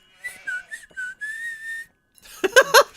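A series of short tonal whistle notes in Nancy Drew: The Haunting of Castle Malloy, followed by a longer sustained one, then a brief burst of higher warbling whistles, loud and clear with no talking.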